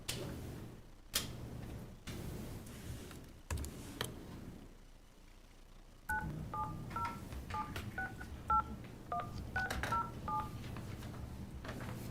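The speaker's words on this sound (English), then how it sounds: "I will get Marcus Catlin on the phone" A telephone is dialed in a county commission meeting room, a quick string of about a dozen DTMF keypad tones after a few clicks and handling knocks, faint under low room noise.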